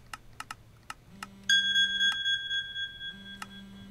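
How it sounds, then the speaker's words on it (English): A timer alarm gives a steady run of bright electronic beeps, preceded and accompanied by a few sharp computer keyboard clicks, with no one speaking. "that's my timer. It means it's time to stop."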